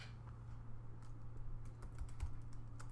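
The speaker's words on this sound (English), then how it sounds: "I start typing it in." Typing a formula on a computer keyboard while working in Excel: steady, close keystroke clicks run throughout over a constant low hum.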